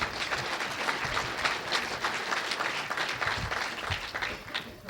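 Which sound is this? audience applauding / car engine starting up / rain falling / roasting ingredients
audience applauding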